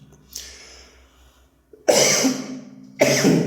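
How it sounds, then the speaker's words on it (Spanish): Three harsh coughs, one fairly soft and two loud, forceful bursts, separated by short breaths. "Perdónenme que siga con esta tos"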